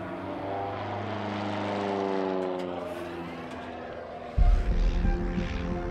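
A propeller spotter plane searching for whale sharks drones overhead with a steady humming engine tone, then a louder rumbling gust of wind or engine noise bursts in near the end.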